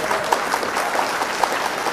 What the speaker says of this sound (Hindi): एक बार जोरदार तालियां अमित गोयल साहब के लिए